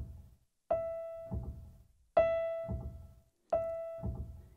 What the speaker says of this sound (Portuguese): Esse som que vocês estão ouvindo é exatamente a imitação do som do martelinho quando ele se